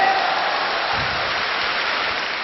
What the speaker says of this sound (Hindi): एक जोरदार हाथ ताली होनी चाहिए पुनीत जी के लिए।